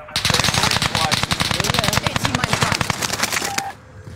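Rapid automatic gunfire from a Call of Duty Warzone match on the Caldera map, a loud sustained burst of closely spaced shots lasting over three seconds before cutting off, with a brief tone after.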